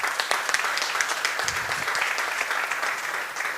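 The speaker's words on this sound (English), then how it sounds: "big round of applause for Thames Valley Police" An audience at the grand opening of a Hindu temple and community centre in Oxford applauds Thames Valley Police, a steady crowd clapping that runs continuously at moderate loudness throughout.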